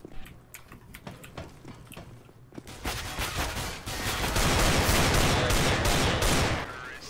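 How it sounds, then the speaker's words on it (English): Gunfire in Counter-Strike: Global Offensive, starting as scattered single shots and building into a dense, sustained burst of overlapping fire from several players, loud and close, then cutting off near the end. "Everyone just shot once."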